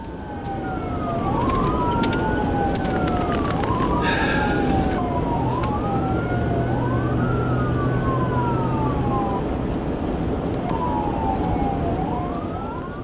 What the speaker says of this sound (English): But when the lights went on and the siren wailed